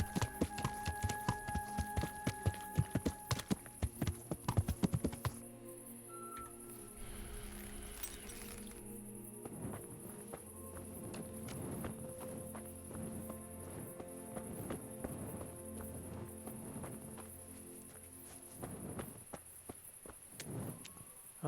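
Horses in the medieval video game Kingdom Come Deliverance clip-clop, with crisp, close hoofbeats in a quick irregular run at first, then softer scattered steps and shuffling over a faint steady hum.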